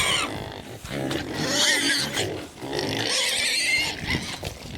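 Pigs squeal and grunt loudly up close in a pig pen, in bursts of noisy, shrill vocalizing.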